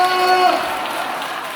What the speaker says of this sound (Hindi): विश्वास करने वाला लोग ताली बजाकर प्रभु के नाम का महिमा करें